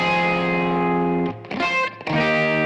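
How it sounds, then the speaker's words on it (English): Distorted electric guitar played through an amp, tones sustained and loud with a short break of picked, choppy notes in the middle before the heavy chords return, with reverb on the sound. "we'll reference my original amp sound."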